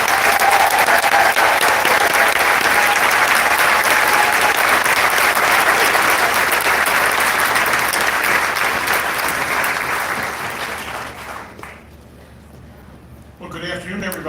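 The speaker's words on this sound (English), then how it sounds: "they deserve a legendary round of applause" An audience gives loud, dense, sustained applause welcoming two cruise line executives onto a stage, holding for about eleven seconds before fading and dropping away.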